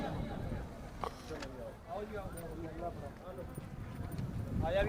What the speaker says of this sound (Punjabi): ਅਗਲਾ ਘੋੜਾ ਰਿੰਗ ਕੋਲੇ ਲਾਇਆ